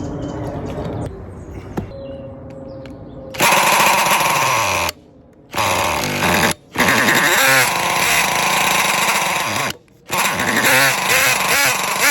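A small MTA4 minibike engine sputters and races in loud, uneven bursts, cutting out completely several times and catching again, its buzzing exhaust close by and harsh, with no voices.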